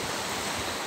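A brief, even wash of sea waves on the beach at Jurmala, a broad soft hiss of surf lasting under a second with no voices.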